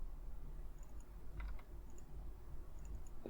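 A few quiet, scattered key clicks on a computer keyboard tap out a new macro time, short bursts separated by pauses in a hushed room.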